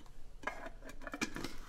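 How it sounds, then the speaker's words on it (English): A plastic lid fitted onto a blender or food processor full of basil leaves for pesto, giving a few quick, quiet clicks and scrapes close by, with no talking. "Time to attach our lid."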